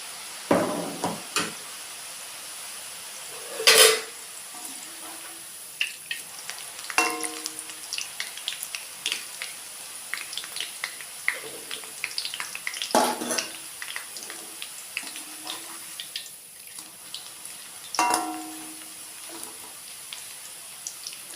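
Idiyappam dough pressed from a mould sizzles gently in hot oil while frying for a Kerala mixture snack, a steady soft crackle broken by a few louder clatters and splashes of stirring and scooping.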